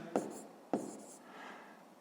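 A pen writes fractions by hand on paper during a sixth-grade math lesson, two short scratchy strokes about half a second apart, close and quiet with no talking.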